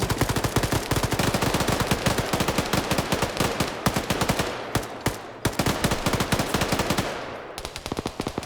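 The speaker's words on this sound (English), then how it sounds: "Now the BTR is shooting at him." Rapid automatic cannon fire from a BTR armored vehicle in a military video game, long sustained bursts of loud sharp shots with brief pauses, close and dominant throughout.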